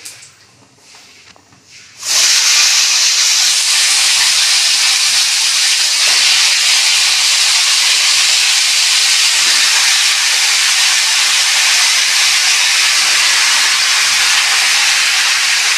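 Potato and pointed gourd hit a hot pan already holding cumin and bay leaves, setting off a sudden loud, steady hiss that carries on unbroken for many seconds after a quiet start.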